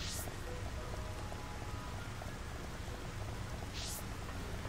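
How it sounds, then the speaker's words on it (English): Rain falling in the video game Xenoblade Chronicles Definitive Edition, a steady dense hiss with a full low rumble, continuous and even throughout, with no voices. "Oh, look, it's raining."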